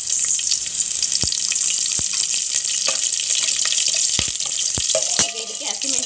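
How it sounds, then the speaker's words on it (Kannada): Mustard seeds and curry leaves sizzle and crackle in hot oil for a tempering, a loud continuous hiss studded with sharp pops and spits close up, with no talking over it. "ಸಾಸಿವೆ ಚಿಟಪಟ ಅಂತ ಇದೆ. ಈಗ ಇದಕ್ಕೆ ಸ್ವಲ್ಪ ಕರಿಬೇವು ಹಾಕ್ತೀನಿ."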